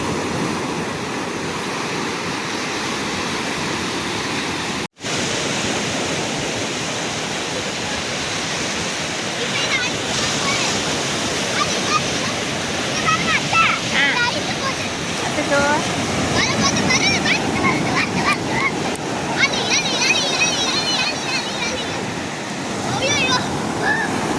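Big ocean waves rolling onto a beach in the early morning, a broad continuous roar of surf with swells building and breaking, a few voices faintly present.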